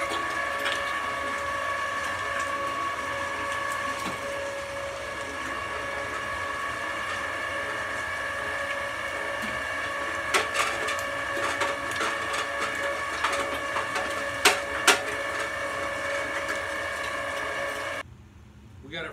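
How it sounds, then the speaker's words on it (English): A meat grinder pushes wild game meat through a fine plate, a loud, steady mechanical whir with a rhythmic grinding hum and occasional clicks, running continuously before cutting off near the end. "We're going to run this once through the fine grind, or fine plate"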